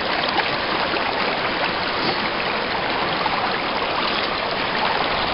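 River water flowing through a gold prospecting sluice on the Little North Fork Santiam River, a steady, close, rushing wash of water with no pauses and no voices.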